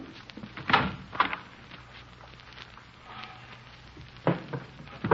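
A closet being opened and searched, with a few sharp clatters and knocks of hangers and a door in a quiet room, spread apart, followed by soft rustling.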